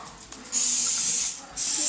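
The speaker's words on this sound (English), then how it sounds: "now I'm just going to use some Pam, and you want to spray generously" Pam cooking spray hisses into a cake pan in two close, steady bursts, the first a little longer than the second, recorded up close in a quiet kitchen.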